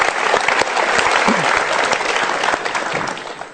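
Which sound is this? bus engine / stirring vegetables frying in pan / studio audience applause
studio audience applause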